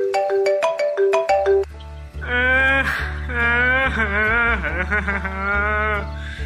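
A melodic electronic ringtone plays a short repeating chime pattern, then shifts into a louder, sustained warbling tune with a steady bass pulse, close and clear.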